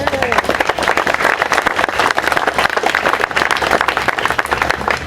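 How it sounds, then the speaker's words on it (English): A ceremony audience at the Sherborn Peace Abbey installation gives itself a round of applause, dense and loud clapping from many people that runs unbroken, with some voices mixed in. "Please, again, give yourselves a round of applause"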